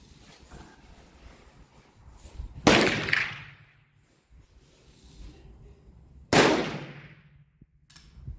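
A Remington Rolling Block rifle chambered in 7mm Mauser fires a cast-bullet load twice, each shot a sharp loud crack with a short ringing decay, separated by several seconds of quiet handling noise.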